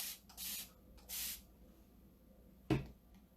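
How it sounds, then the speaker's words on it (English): Spray bottle misting onto a chalk-transfer craft project: two short hissing sprays in quick succession, then a sharp click or tap, close and fairly quiet, no speech. "in this case, I'm going to just spray."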